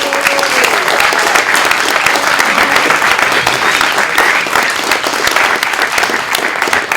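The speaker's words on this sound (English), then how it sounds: "so I think one more round of applause for them." Sustained applause from an audience for young filmmakers at a film screening Q&A in Edinburgh, a loud, dense wash of clapping holding steady throughout with no break.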